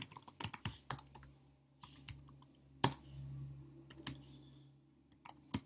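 Keys clatter on a computer keyboard while coding JavaScript, with close, quiet clicks arriving in irregular bursts and pauses, plus one sharper tap midway.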